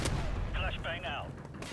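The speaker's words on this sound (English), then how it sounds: "Flashbang out." A video game flashbang goes off with a sharp burst at the start, followed by a crackling metallic ringing as the blast rolls on, with mid-level background noise.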